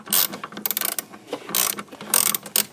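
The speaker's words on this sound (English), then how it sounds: "I'm going to put my wrench on it." A ratchet wrench clicks in quick, close bursts as it turns a bolt on a 2006 Chevy Silverado during a brake master cylinder replacement, with several short runs of rapid pawl clatter separated by brief pauses.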